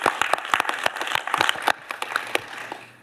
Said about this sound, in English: How about a round of applause for Tom and Matt and the crew that put this together?